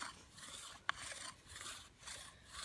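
A bow drill spindle rubs for fire making in a steady back-and-forth rasping rhythm with a sharp tick partway through, close and fairly quiet, with no speech.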